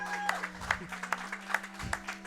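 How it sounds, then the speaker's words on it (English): Audience applause at a speedrun charity event, a crowd clapping steadily with sharp claps rising through the noise and a faint voice underneath. "let's just get one more big round of applause for Nashlax in Final Fantasy 1"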